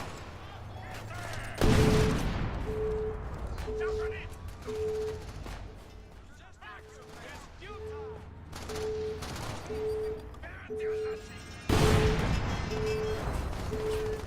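Grenades and gunfire in Crackdown: two heavy, loud explosions punctuate bursts of gunshots, while a steady beeping tone pulses throughout and someone talks over the action.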